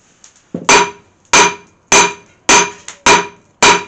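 Hammer blows forging steel for a bill hook, with a striker helping: six loud, sharp metallic strikes ringing out at a steady, slightly uneven pace, near and alone, after a softer tap or two at the start.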